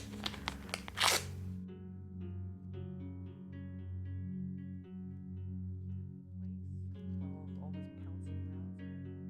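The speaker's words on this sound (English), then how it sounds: "And you just need to tape it down a bit." A few quick rips of tape being pulled off the roll come at the start, followed by a quiet stretch of the tape being pressed down under a voice during a mixed media art project.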